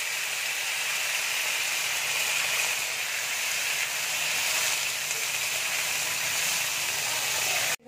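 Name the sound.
potatoes sizzling as added to hot oil in pan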